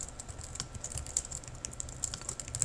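Quick, light keystrokes clatter on a computer keyboard in an irregular stream of close taps, with no voice over them.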